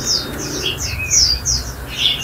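A small caged songbird chirps repeatedly in quick, bright bursts, close by and fairly loud, with a low background hum.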